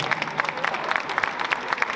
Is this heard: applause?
yes